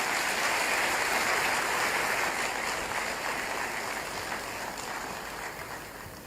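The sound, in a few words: audience applause after a speech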